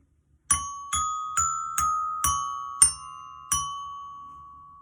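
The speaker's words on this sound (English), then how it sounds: "this little tiny xylophone over here, that's kind of a loud one" Small toy xylophone struck seven times in a slow, uneven sequence, each bright metallic note ringing clearly and decaying, alone in a quiet room.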